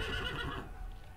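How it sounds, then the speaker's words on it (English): A horse in Age of Empires 3 gives one loud, close, quavering neigh that tails off over about a second, with no talk over it. "Looks like there's a bunch of horses that are stuck."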